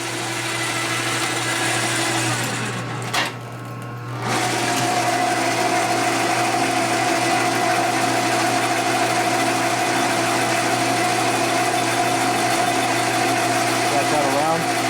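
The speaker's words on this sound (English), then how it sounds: "This lathe is so quiet." A metal lathe set to heavy roughing cuts runs with a steady mechanical hum and a constant high whine, continuous and fairly loud apart from a brief dip early on, with speech over it.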